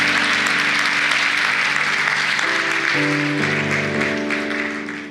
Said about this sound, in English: Another round of applause for this wonderful music department we have here at the church.